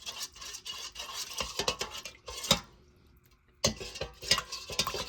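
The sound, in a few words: metal spoon stirring honey into hot water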